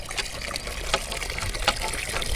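Water gushes and splashes from a hand pump in Hyderabad, Pakistan, a continuous close splashing stream with a few sharper bursts, with faint voices in the background.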